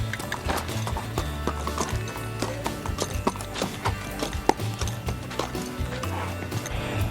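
Horse hooves walk in a steady clip-clop rhythm, the footfalls close and distinct, with a few sharper knocks and occasional snorting mixed in and no talk over them.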